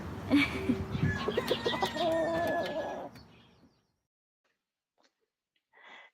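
A person imitates a rooster crowing, a loud drawn-out warbling call that fades, followed by silence and a brief soft sound.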